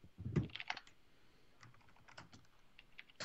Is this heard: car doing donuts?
no